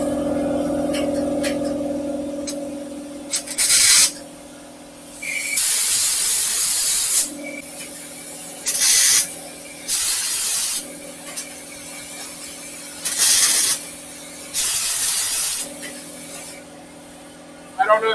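A welder turned all the way up to high heat, working on a Ford F1 top chop, gives off about five loud crackling hiss bursts, each a second or two long, separated by quieter pauses.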